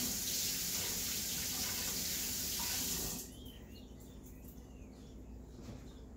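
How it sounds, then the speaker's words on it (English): Water from a tap pours steadily and loudly for about three seconds while hands are washed beneath it. The tap is then shut off, leaving a quieter room where faint birds chirp in the background. "I'm going to wash my hands off real quick"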